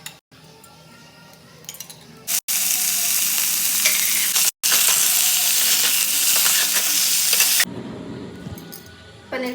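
Paneer fries lightly in a little oil, giving a loud, close, continuous sizzle broken by brief pauses, with utensils clinking and stirring near the end.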